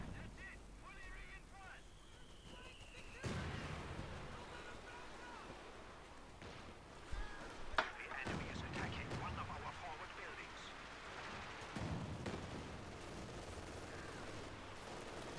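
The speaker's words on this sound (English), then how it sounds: "Oh boy, here comes Katyusha." Katyusha rocket artillery barrage in Company of Heroes 2 lands as a string of rumbling blasts and crackling explosions over a noisy battlefield, with a commentator talking throughout.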